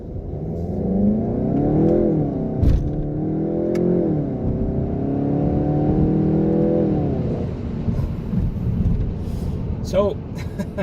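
A 2019 VW Golf GTI Rabbit engine pulls hard while driving through corners, a loud sustained rising and falling rev heard from inside the cabin, easing off near the end with a short voice.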